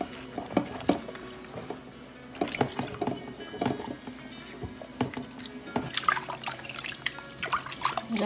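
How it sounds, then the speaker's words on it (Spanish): Tilapia fish being rinsed under running water after cleaning with vinegar, with a steady trickle and irregular splashes and drips close by, no talking. "Ya las tenemos limpias y con vinagre y las estoy enjuagando."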